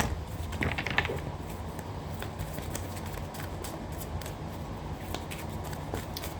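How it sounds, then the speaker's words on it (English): Tarot cards being shuffled by hand, a steady papery riffle and clatter of card edges running continuously at close range under a low room hum. "I'm going to give them a little shuffle"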